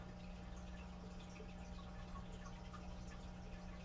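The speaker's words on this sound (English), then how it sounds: "with this hardcore waterfall in the background" A powerful waterfall roars steadily in the background, a dense continuous wash of rushing water with a low rumble and no break across the whole stretch.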